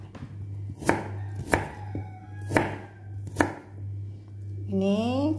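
A knife chops ingredients into small pieces for Balinese chicken tum, giving four crisp, evenly spaced thuds on a cutting board over a low steady hum, followed by a brief rising electronic tone at the end.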